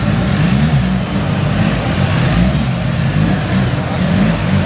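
Off-road motorcycles in a stunt display team show doing burnouts and jumps, a continuous loud engine roar with rising revs throughout.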